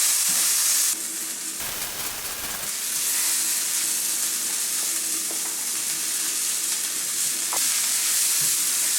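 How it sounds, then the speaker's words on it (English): Tomatoes and onions cooking in a hot pan, a loud continuous sizzle and hiss close up, dipping briefly partway through and with a few faint clicks, no voices. "I have my tomatoes and onions, and I'm gonna cook these"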